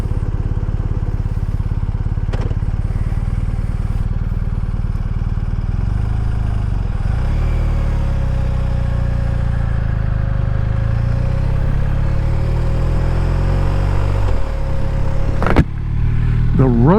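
Motorcycle cruising along Skyline Drive, a loud continuous engine drone with wind rush, holding steady then shifting pitch as it changes speed, with a brief clunk near the end.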